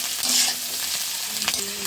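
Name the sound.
stirring egg frying in pan with green chilli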